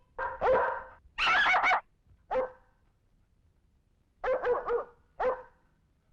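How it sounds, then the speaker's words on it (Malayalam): A dog barks in loud, close bursts: two or three quick yelps, a longer sustained bark, a short one, then a cluster of rapid barks and a final yelp, with quiet gaps between. "പട്ടിയെ പിടിച്ചേ"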